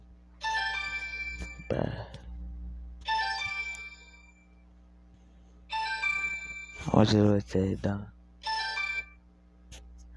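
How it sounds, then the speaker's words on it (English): Dad's phone rings with a repeating electronic ringtone, four bright melodic bursts spaced a couple of seconds apart, fairly close, with someone talking between and over the rings. "someone's calling my dad's phone"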